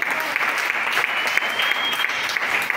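A church congregation applauds steadily, many hands clapping in a loud, even roar that fills the room without pause.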